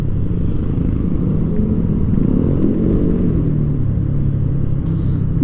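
A 2025 Yamaha Aerox 155 SP scooter engine hums steadily as it rides along a wet road, a constant low drone that holds the same level throughout with no changes in revs.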